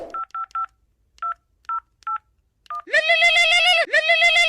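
A phone keypad sounds eight short dialing beeps in an uneven rhythm, followed by two long, loud, warbling call tones right at the microphone.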